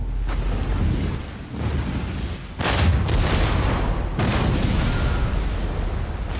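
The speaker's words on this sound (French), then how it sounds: "Bonaparte fait installer en face une batterie d'artillerie." Bonaparte's artillery battery firing in the late 18th century, heavy booming blasts over a continuous rumbling roar, with two sharp, loud reports rising out of the din.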